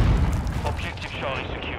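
A Semtex grenade detonates in Call of Duty: Modern Warfare 2, a heavy close boom with a deep low-end thump that rolls off into a rumbling tail.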